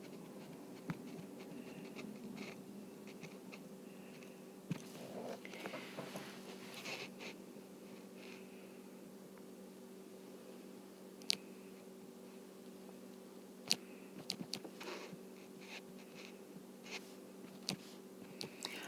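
Pen or pencil sketching a parabola graph on paper, soft steady scratching strokes with occasional taps and clicks, close and quiet, no talking over it.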